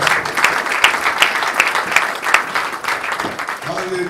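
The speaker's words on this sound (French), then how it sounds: "Clapping our hands for the apostle." Church congregation in Dallas, Texas clapping hands for the apostle, sustained rhythmic applause from a crowd filling the room, with a voice speaking over it.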